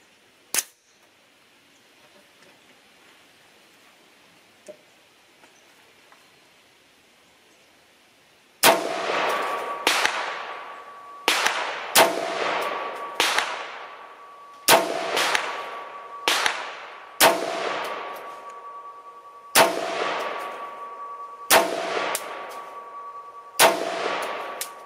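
A Talon Armament Gryphon GAR-15 rifle on a range fires about a dozen loud shots at an uneven pace after one early shot. Each crack is followed by a ringing clang from the steel targets.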